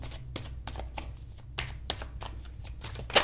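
Tarot cards being shuffled by hand in quick, rhythmic riffling strokes, close and fairly loud, with a short sharp flourish at the end.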